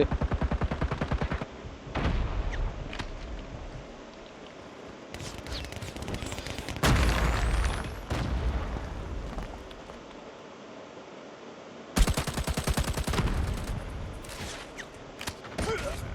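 Gunfire in a mobile shooter video game, sniper rifle shots among it: rapid, close bursts at the start and end, with several single loud cracks and quieter gaps in between, with no talking.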